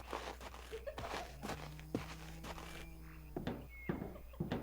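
In a Korean horror video game on guard duty, irregular footfalls land near and fairly loud, spaced in uneven bursts over a constant low hum and thin sustained tones, with no voices.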